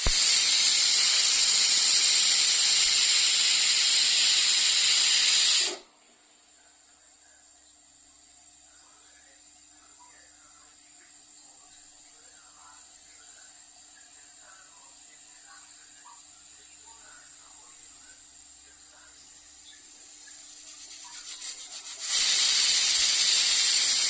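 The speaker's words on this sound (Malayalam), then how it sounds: "നമ്മുടെ പരിപ്പ് 4-5 വിസിലടിച്ചു" A pressure cooker of lentils vents steam in a loud, harsh hiss that cuts off abruptly, leaving a long quiet stretch of faint background, then bursts back into a full hiss near the end.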